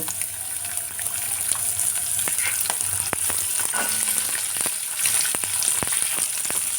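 Cut vegetables fry in sunflower oil with curry leaves for an Ekadashi vegetable fry, giving a steady, loud sizzle. Sharp spattering pops and a few stirring clatters break through the hiss.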